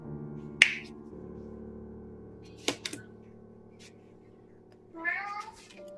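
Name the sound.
voice imitating a cat meow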